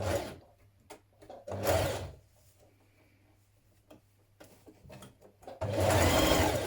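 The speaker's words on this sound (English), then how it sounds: "just do some stay stitching around this to keep it in place before you stitch it to your sleeve" Short bursts from a sewing machine doing stay stitching around the cuff edge of a hoodie sleeve, close by, with quiet pauses, clicks and fabric handling between runs and a longer burst at the end.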